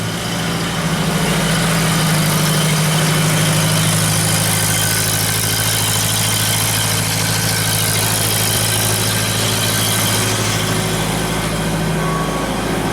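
A Genie lift's engine idles steadily after starting, warming up with a constant loud low rumble and mechanical whine, running alone without voices for the whole stretch.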